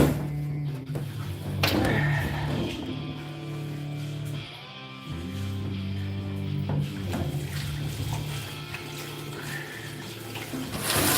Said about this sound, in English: And we've got our hand washing bucket over there.